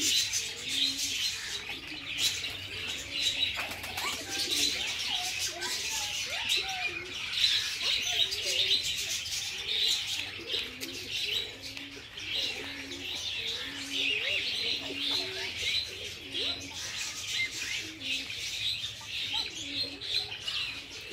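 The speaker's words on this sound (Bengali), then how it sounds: "এখানে পায়রা।" Pigeons cooing and other birds chirping through a nature park aviary near Taratala, Kolkata, with repeated low coos and steady high twittering over a dense, continuous chorus.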